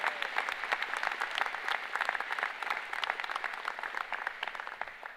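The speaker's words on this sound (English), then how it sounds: "We're going to give them a full round of applause." University of Calgary convocation crowd applauding past chancellors, a full, sustained round of many hands clapping with crisp individual claps standing out through the roar.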